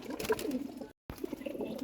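A pet pigeon coos in low, soft throaty pulses, close and clear, with a brief silent gap midway before the cooing resumes.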